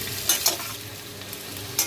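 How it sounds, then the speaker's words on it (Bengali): Paneer cubes sizzle in a hot pan while being fried until lightly reddened, a steady hiss broken by a few sharper crackles and stirring clicks, with no voices. "একটু হালকা লাল লাল করে ভেজে"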